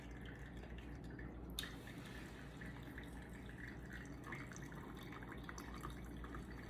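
Coffee trickles and drips steadily through a pour-over filter in a quiet room, a soft continuous stream with faint splashes, no voices.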